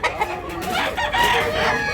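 Several roosters crow over one another at a cockfighting rooster market in Tabunok, Cebu, with overlapping cock-a-doodle-doos and clucks filling the air at close to moderate range.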